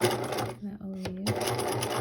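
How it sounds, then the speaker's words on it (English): A sewing machine stitches down part of a fabric face mask meant to cover an N95, running in a steady buzz that pauses briefly in the middle before starting again, close and clear. "I'm going to sew this part down"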